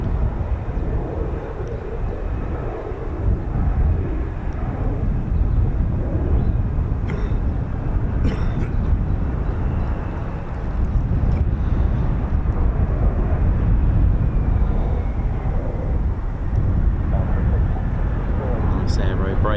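Lockheed F-35B stealth jets making a two-ship break before a conventional landing at an RAF air base produce a steady, broad jet roar throughout, with a voice commenting over it.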